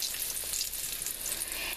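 Arancini balls fry in hot oil, a close, steady bright sizzle with fine crackling bubbles that holds evenly throughout.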